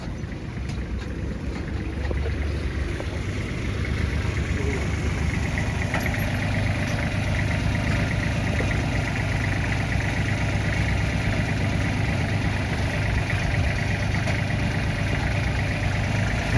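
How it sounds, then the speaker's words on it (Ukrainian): A small Kubota L1-235 diesel tractor engine idles steadily up close, its low rapid chugging loud and constant throughout with no talking. "Моторчик працює супер"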